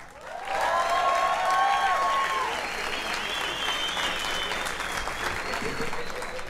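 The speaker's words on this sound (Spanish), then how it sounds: "Fuerte el aplauso para Cristian Carvajal, damas y caballeros" Audience applause for comedian Cristian Carvajal at a live stand-up comedy show, a loud sustained burst of clapping from a full room that holds steady for several seconds with a few cheers mixed in.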